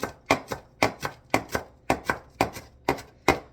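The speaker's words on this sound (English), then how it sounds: "Now let's chop it up for them." A dull knife chops iguana food on a cutting board in a quick steady rhythm, each hit a close, crisp thud, sometimes doubled, with no talking.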